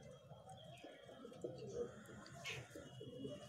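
A female Andhra-breed pigeon coos softly in a low, throaty rolling pattern, close by, with faint background chatter and a brief higher sound partway through.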